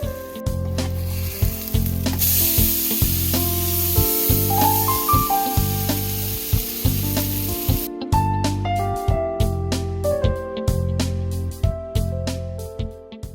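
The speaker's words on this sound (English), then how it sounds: "So I added a little bit of vegan butter to the pan." Zucchini chars in vegan butter in a hot pan, giving a constant sizzle and frying hiss beneath steady background music.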